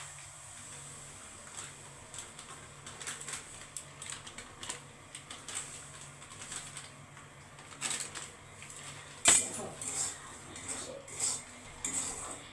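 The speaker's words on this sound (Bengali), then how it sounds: "এই ঘি দিয়ে আমি সুজিটা কিন্তু সুন্দর করে ভেজে দেবো হালকা হালকা আঁচে।" Semolina stirred in melted ghee in a pan over low heat for a Bengali gulab jamun, with soft irregular scraping and clicking of the spoon, fairly quiet, plus a sharper clink near the end.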